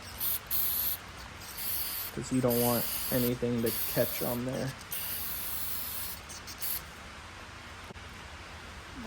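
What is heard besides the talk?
spraying silicone lubricant from aerosol can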